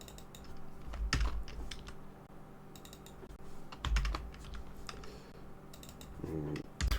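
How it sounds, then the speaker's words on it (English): Computer keyboard keys are typed in irregular bursts of close, crisp clicks and clacks, with short pauses between groups and a low background hum. "I'm working my way through the keyboard again."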